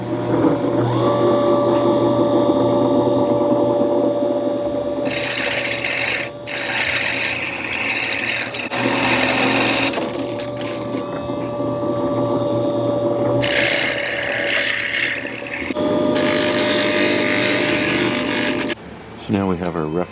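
A lapidary grinding wheel with 180 grit hums continuously while a silver ore cabochon is shaped against it, with bursts of louder grinding and hissing water spray as the stone is pressed on, near and steady.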